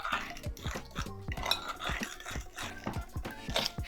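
Matcha brownie batter with butter, vanilla and flour being mixed in a bowl: a run of soft, rhythmic thuds and scrapes, fairly close and moderate in level, with no voices.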